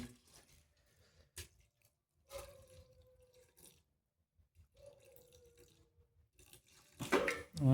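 Water poured into the pot of a Joy single electric cooker, coming in a few separate pours with quiet gaps between them and a louder splash near the end, close by with no talk.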